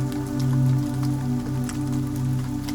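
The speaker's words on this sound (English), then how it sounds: "Rain on Cobblestones." Rain falling on cobblestones on a Paris street at night, a steady close patter of drops with scattered louder splashes over a low droning hum.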